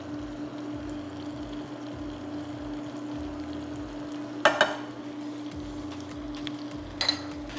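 Lemon garlic chicken thighs being stirred in a pan, a steady low sizzle with soft scraping of the utensil and a couple of sharper clinks near the end.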